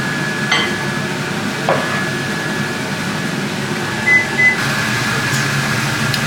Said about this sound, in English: You microwave it again.